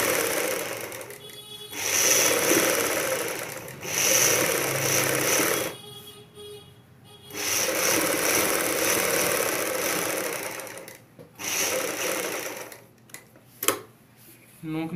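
A sewing machine runs in long bursts of steady rattling stitching on a front V-neck piece, with pauses between runs and brief clicks and handling noises.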